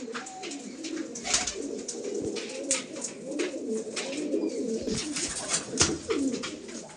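Madrasi pigeons coo in low repeated calls over continuous rustling and flapping noise from a loft, with the calls steady and fairly close throughout.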